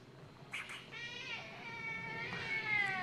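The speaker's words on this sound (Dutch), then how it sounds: "de kat die miauwt heel zielig" A cat meows plaintively on a street in Amsterdam, a couple of short cries followed by a long, wavering drawn-out meow, fairly faint against a quiet background.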